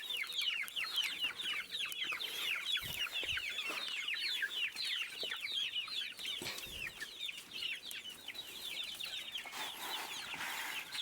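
A flock of chickens clucks continuously in a dense chatter of short repeated calls, fairly close and steady throughout, with a few soft thumps underneath and no talking.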